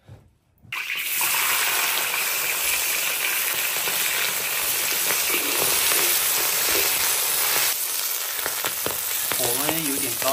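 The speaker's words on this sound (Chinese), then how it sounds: "火温有点高，一炸全部都胀了" Food sizzles and spits steadily in hot homemade rapeseed oil over a high flame. The dense, loud frying runs nearly the whole time after a brief quiet start.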